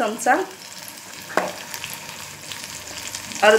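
Kashmiri chilli powder, turmeric, garam masala and coriander-cumin powder are stirred in hot oil in a pan, with a soft sizzle under sharp metallic spoon scrapes and clinks at the start, middle and end.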